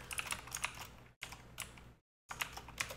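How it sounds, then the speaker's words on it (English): Computer keyboard keys pressed in a run of crisp close clicks and taps while typing a PowerShell command, with a brief silent gap before more key presses follow. "Press enter."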